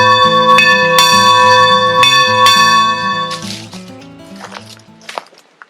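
At camp, a bell rings loudly with four evenly spaced strikes. Each one leaves long, shimmering overtones that overlap into a sustained metallic wash, then fade into softer rustling and dripping sounds.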